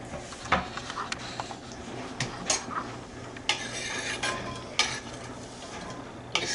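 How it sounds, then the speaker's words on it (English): Onions fry in leftover bacon fat over a low burner, a soft, continuous sizzle broken by sharp clanks and scrapes of a utensil stirring against the pan. "That should fry those onions"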